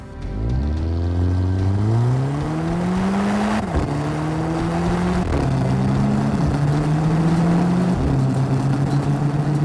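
A Volkswagen with a DSG twin-clutch transmission pulls hard through its gears, the engine note climbing steadily then dropping sharply at each quick upshift, several shifts in a row, loud and close with no talk.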